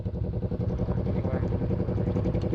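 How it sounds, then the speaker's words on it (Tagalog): Motorcycle being ridden on the road around Olongapo City, Zambales, its engine giving a close, steady, loud drone with a rough pulsing texture throughout, with no talking. "Papalit-palit kami ng motor."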